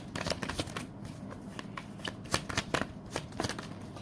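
Tarot cards shuffled close up, a steady run of crisp riffling slaps and flicks repeating quickly throughout, with no speech over it.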